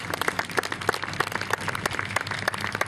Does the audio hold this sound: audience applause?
yes